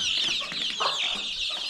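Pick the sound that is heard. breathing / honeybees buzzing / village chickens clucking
village chickens clucking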